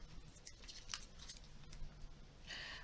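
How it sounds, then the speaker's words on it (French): Scissors snip carefully around a fragile bottle-cap craft piece, giving faint, quiet, irregular clicks and cuts close by in a quiet room. "il faut bien découper tout doucement tout autour"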